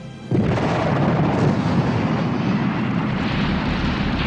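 A bomb blasts on a train platform, erupting suddenly into a loud, sustained roaring boom that rumbles on with dense, broad noise and no voices.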